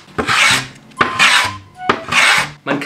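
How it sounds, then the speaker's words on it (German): A small, sharp hand plane shaves old wooden floorboards during a kitchen makeover, making three rasping strokes in a steady back-and-forth rhythm, close and clear with no talk. "So, für sowas reicht auch schon so ein kleiner Hobel"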